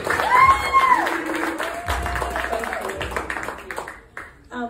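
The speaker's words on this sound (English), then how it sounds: "just give her a round of applause for what she does so far" An audience claps for a woman being honoured in a round of applause, while excited voices and cheering mix in over the clapping before it quickly dies away.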